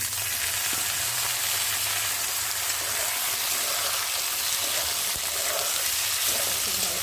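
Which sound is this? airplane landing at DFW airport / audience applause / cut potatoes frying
cut potatoes frying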